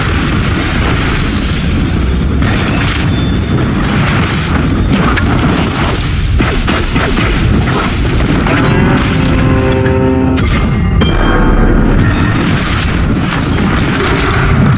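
Blade technique skill effects from the Where Winds Meet video game burst out as loud, dense booming impacts and crashing whooshes in a continuous battle din, with a brief ringing tonal flourish partway through.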